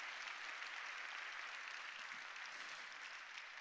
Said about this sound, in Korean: 우리 박수를 한번 고마움을 표현하도록 하겠습니다